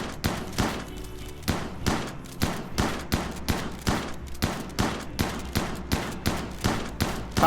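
Rapid rounds of shotgun fire during a hunt in the RimWorld game, a steady volley of punchy bursts roughly three per second over a dense, continuous background.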